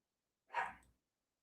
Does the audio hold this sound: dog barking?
yes